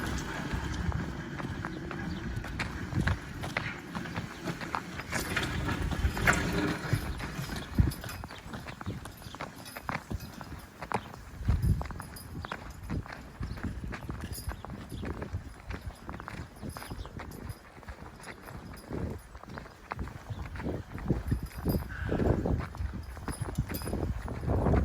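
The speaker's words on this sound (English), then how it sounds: "A little posse of ponies." Several ponies walking on a farm in winter, hooves clip-clopping steadily and close by in an irregular overlapping rhythm against constant outdoor background noise.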